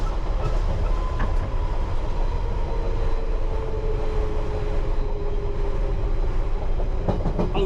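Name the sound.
London Underground Piccadilly Line train running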